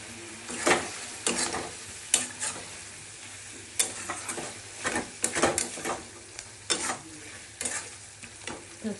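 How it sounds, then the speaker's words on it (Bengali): Whole garam masala spices sizzle and crackle in hot ghee in a pan, with repeated sharp spattering pops and stirring scrapes over a steady frying hiss, close and fairly loud, no voices. "ঘি দিয়ে দিলাম, গরম মশলাগুলো দিয়ে দিচ্ছি"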